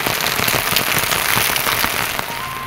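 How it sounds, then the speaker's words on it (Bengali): Heavy rain pours steadily and loudly at close range, a dense continuous hiss with scattered sharper drops and patters striking a surface throughout, no voices present. "বৃষ্টি শুরু হয়ে গেছে।"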